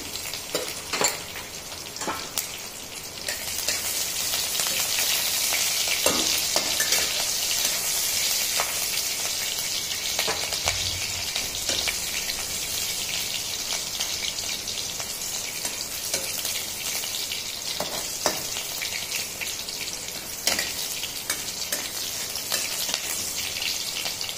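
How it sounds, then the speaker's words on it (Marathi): Cumin seeds and green chilies fry in hot oil in a pan, giving a loud, continuous sizzle and crackle with occasional stirring scrapes and clicks, and no voices. "आपलं तेल तापलेलं आहे, आपण जिरं त्यामध्ये टाकलं।"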